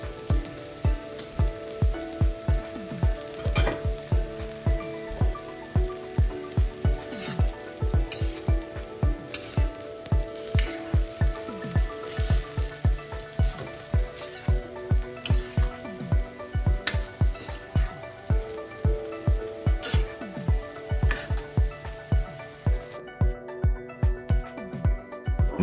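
Fried rice with soy sauce and honey sizzles steadily in a hot pan while being stirred, a dense crackling hiss punctuated by rapid, regular scraping and clatter of the utensil against the pan, close and continuous throughout.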